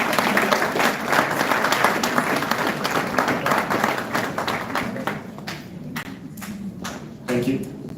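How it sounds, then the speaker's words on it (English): Audience at an evening event giving a warm round of applause, loud sustained clapping from a crowd that gradually thins toward the end, with some voices over it. "please, a warm round of applause for Garita Kimani."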